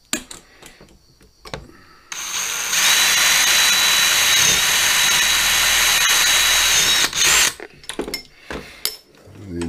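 Mini lathe spinning up and turning a small metal part, a loud steady whine with a high tonal ring that holds for several seconds, framed by clicks and handling knocks before and after.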